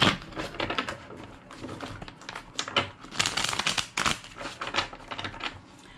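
Continuous rapid riffling and flicking of tarot cards, a dense papery clatter in bursts, fairly close and steady with no voices.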